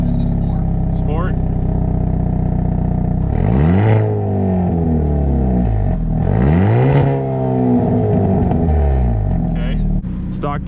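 A Hyundai Elantra N in sport mode revs hard through its engine and exhaust, two sharp loud sweeps up and down with crackling overrun, close by and with talk around them.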